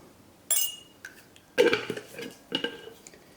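Chicken wings are tossed with two tablespoons of black pepper in a bowl, giving three separate short clattering knocks of utensil or bowl against a quiet background.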